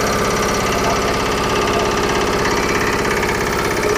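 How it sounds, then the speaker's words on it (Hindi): A Lohan Agro 10 HP diesel power tiller with a rotavator runs at a farm fair, its engine chugging loudly and steadily up close with a rapid, even knocking rhythm. "देखो भाई डीजल इंजन के साथ में"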